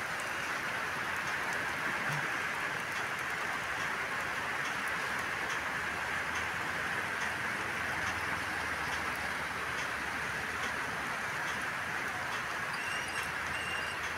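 Steady rain falls without pause, a constant even hiss of drops pattering on surfaces.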